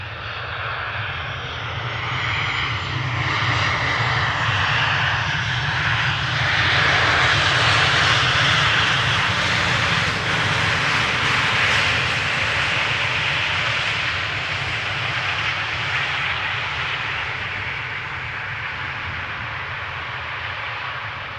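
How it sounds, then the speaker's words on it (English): An Air Europa Boeing 737-800 jet, 11 years old, arriving at Amsterdam Schiphol, roars steadily with a broad engine rumble and whine that swells toward the middle and slowly eases, heard alone without talk. "Air Europa, flight 1091, arriving from Madrid. Flight time 1 hour and 55 minutes. 737-800"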